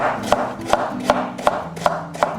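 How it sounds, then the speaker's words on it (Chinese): A knife chops through a peeled carrot on a cutting board, cutting it into slices and then thin shreds: six crisp, evenly spaced strokes about every 0.4 seconds, close up, with no one talking. "一根削皮胡萝卜，我们先给它切片，然后再给它倒切丝"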